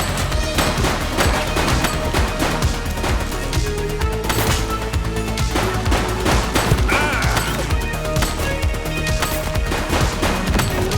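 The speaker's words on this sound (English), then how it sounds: "Shots fired! He's running!" Loud, sustained rapid gunfire from a shooting suspect in The Precinct, dense overlapping bursts and single shots filling the whole stretch with no pause, close and harsh.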